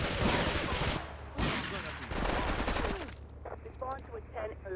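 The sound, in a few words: gunfire in GTA 3 Definitive Edition video game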